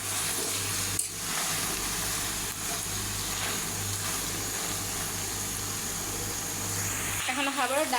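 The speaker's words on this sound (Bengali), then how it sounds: "এখন ঢাকনাটা উঠাইয়া নেড়ে দিব।" A pot lid comes off and beef tripe curry is stirred, with a steady loud sizzle of frying throughout and a brief clank of metal near the start.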